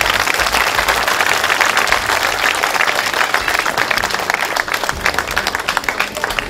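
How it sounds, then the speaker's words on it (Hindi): Loud, dense crowd applause fills a public political rally in Pochanpur, Dwarka, sustained and steady throughout with faint voices mixed in. "कृपया जोरदार तालियां बजाएं।"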